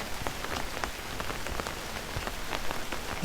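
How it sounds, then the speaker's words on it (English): Steady rain patters on an umbrella and surrounding surfaces outside a bakery, a close, soft, continuous hiss scattered with individual drop taps, with a slightly louder tap right at the end. "Rain falls around you."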